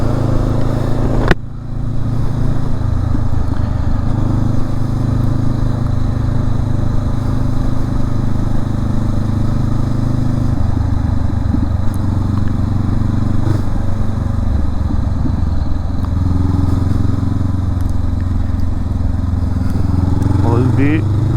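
Steady, loud motorcycle engine drone while riding through a French town, with a constant low rumble, occasional shifts in pitch, and wind noise throughout. A brief dip early on.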